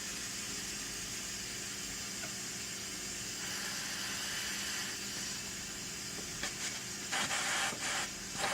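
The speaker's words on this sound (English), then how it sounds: "There's the quick release. Go ahead and release it." A stovetop pressure cooker vents steam in a quick release, giving a loud continuous broadband hiss that holds steady throughout, with a few small clicks near the end.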